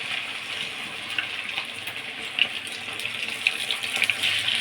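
Fish pakoda fries in hot oil, giving a continuous bubbling hiss scattered with small crackles and pops, close and moderately loud, with no voices.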